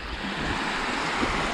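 Sea waves washing onto a Greek beach, a continuous broadband roar of surf with some wind noise on the microphone, close and steady with no voices.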